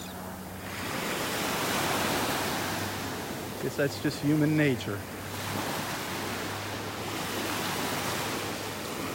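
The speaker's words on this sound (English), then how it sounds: "With these waves, the tide is a little bit higher than usual." Steady wash of small waves breaking on a Gulf of Mexico beach in North Naples, Florida on a morning walk, a broad continuous surf roar with some wind, while someone briefly speaks midway.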